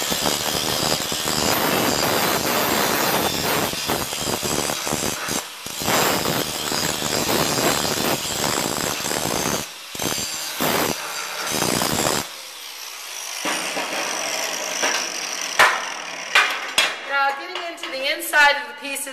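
A handheld grinder works on metal, throwing sparks, with a loud, harsh, continuous grinding roar that stops partway through and is followed by scattered clanks and metallic rattles.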